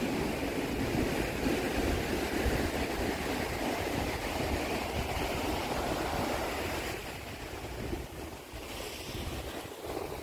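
Ocean waves at Kaup beach near Udupi, heard as a broad, continuous surf wash mixed with heavy wind buffeting the microphone, loud and close, easing slightly near the end, with no voices.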